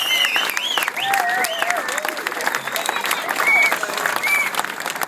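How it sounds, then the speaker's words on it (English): Lively crowd applause following a speech, sustained and fairly close, with whistles and cheering voices rising over the clapping. "Big round of applause for everybody who made an effort turning up here today as well."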